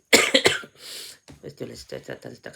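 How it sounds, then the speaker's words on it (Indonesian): A few sharp, harsh coughs up close, followed by a breathy exhale, then someone begins speaking. "pagi ni batuk masih ada"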